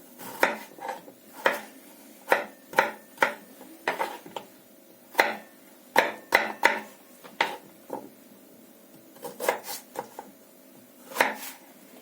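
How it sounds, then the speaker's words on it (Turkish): A knife dices potatoes and carrots into cubes on a cutting board in a steady series of sharp, close taps, pausing now and then between cuts. No voices. "patates ve havuçlarımızı da küp küp doğruyoruz"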